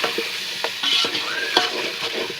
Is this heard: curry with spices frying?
yes